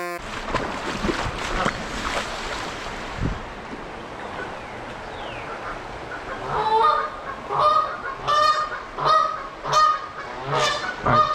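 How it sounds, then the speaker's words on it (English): Geese honk near their nest in repeated loud, nasal calls that come in bursts over the second half, after a stretch of wind and faint outdoor rumble at a brook. "It's a geese nest."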